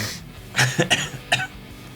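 A few short, sharp coughs close by, three or four bursts in quick succession with brief gaps between them.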